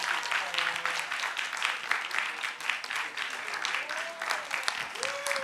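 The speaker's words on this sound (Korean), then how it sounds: "큰 박수 같이 함께 보내주시기" Audience applause at a youth participation festival award ceremony in Yeonggwang, a steady dense wash of clapping lasting throughout, with faint tonal sounds in the background.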